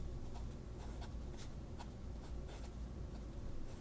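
A Sheaffer fountain pen with an inlaid medium nib scratches across paper in quick, faint strokes, with a steady close scratching rhythm over a low background rumble.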